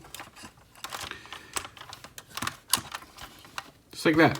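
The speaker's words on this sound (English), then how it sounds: "Instead of transforming, first thing we do is we'll fold up the landing gear" Small plastic clicks and snaps as the landing gear of a Mastermind Creations R-36 Inventa transforming toy is folded up, a quick irregular series of close, crisp ticks, followed by a brief spoken remark.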